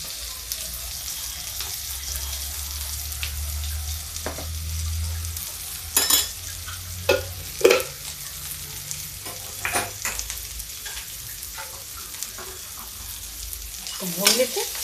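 Garlic and asafoetida fry in a pan with a soft, steady sizzle, punctuated by several sharp scrapes and clinks of a spoon stirring, faint and close with a low hum behind.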